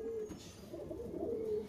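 A restless Madras pigeon gives a brief, soft cooing call close by, low and throaty, with no voices over it.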